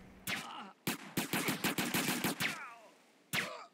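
Pistol gunfire in GTA San Andreas: a rapid run of close, sharp shots, followed after a short pause by one more shot.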